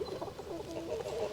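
Chickens and a rooster cluck softly in a farmyard, a steady run of low, murmuring clucks from nearby birds with no talking.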